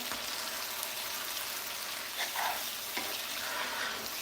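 Pig tail and seafood stew cooking in a pot, with a steady sizzling hiss and a few soft stirring scrapes over the top, close and fairly quiet.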